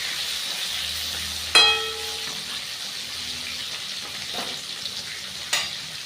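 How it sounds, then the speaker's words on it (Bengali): New potatoes frying slowly in oil over lowered heat, a soft steady sizzle punctuated by two sharp metallic clinks of a utensil against the pan, close and quiet with no talking. "এবার আলুটাকে আমি ভালো করে ভেজে নেবো আস্তে আস্তে, একটু জাল কমিয়ে"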